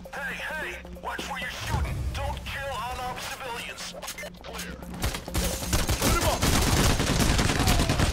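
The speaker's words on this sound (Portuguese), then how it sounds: "Nossa, tá levando muito tiro aqui" Rapid gunfire bursts from the video game Payday The Heist, growing denser and louder toward the end, with voices heard over the shooting.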